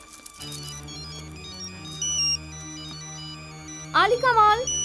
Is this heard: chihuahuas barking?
no